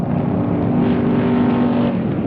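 Engine roar from 1965 drag race cars running down the strip at a handicapped drag racing event, a loud, steady, continuous rumble with no break, no voices over it.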